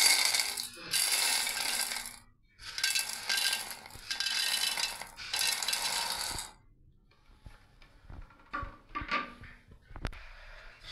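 Dry chickpeas, wheat and lentils pour in bursts into a pot, giving three or four loud rattling, gritty rushes in the first six seconds, then quieter scattered clinks and taps as grains settle.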